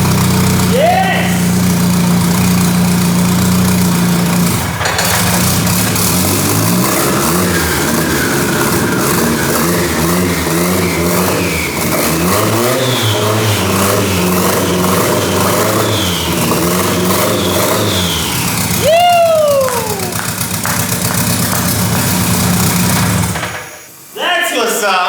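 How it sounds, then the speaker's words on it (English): A Mitsubishi Lancer converted from front-wheel to rear-wheel drive runs with a loud, steady idle and rises into several revs before the engine cuts off near the end; excited voices talk over it. "Our rear-wheel drive Lancer runs."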